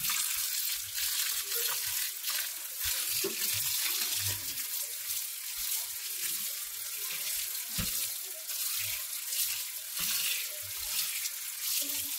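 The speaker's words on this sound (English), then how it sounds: "you have to wash and rinse them with cold water until it's fully cold" Cold tap water runs steadily over cooked Hakka noodles in a kitchen sink, a constant hissing rush with intermittent soft splashes and clinks as the noodles are rinsed.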